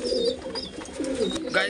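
Pigeons cooing close by, soft throaty warbling calls repeating under a person talking.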